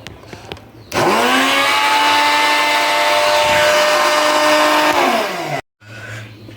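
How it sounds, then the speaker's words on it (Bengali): An electric mixer grinder blending fresh mango juice roars loud and steady for about five seconds after switching on, then winds down and stops, with a quiet voice briefly before and after. "সুইচটাকে অন করলাম, মিক্সিটাকে ধরলাম।"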